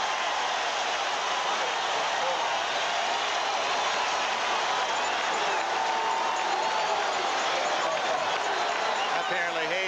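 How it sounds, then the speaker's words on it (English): A stadium crowd at an NFL AFC Championship game between the Oakland Raiders and San Diego Chargers roars in a steady, dense cheer for the Chargers' defense, a broad sustained wash of voices with no break throughout. "And San Diego's defense gets a cheer."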